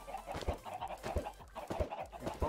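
Chickens in a video game cluck in short, regular bursts, about four clucks spaced roughly evenly, fairly faint and alone.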